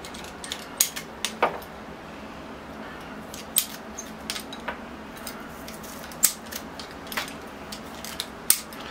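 Sharp scissor snips cut through the roots of a young banyan bonsai during repotting, scattered single and clustered clicks spaced irregularly, close and crisp over a quiet background.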